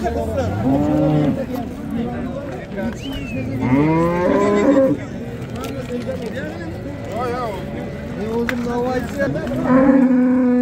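Cattle, cows with calves, moo repeatedly at a Friday livestock market in Pastdargom, Samarkand, several overlapping long lowing calls near and far, with people talking and a busy crowd murmur underneath.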